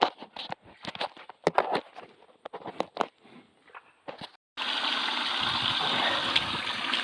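Water gushes steadily to flush out a muddy pool the cows dug, a loud continuous rush that starts abruptly after several seconds of footsteps and scattered knocks.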